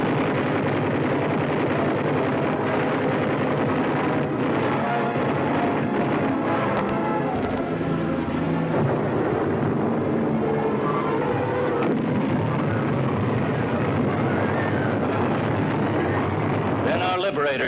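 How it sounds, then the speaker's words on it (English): World War II medium bombers strike a Japanese jungle airfield and its defenses, with continuous loud roaring rumble, bursts of explosions and heavy noise under a narrator's voice throughout. "jungle-hopping medium bombers went after the Jap airdrome and its defenses"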